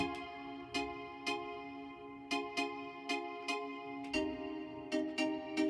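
Bright synthesized bell tones from the Harmless synth in FL Studio ring out in a sparse, rhythmic pattern over a sustained pad, fairly quiet and alone.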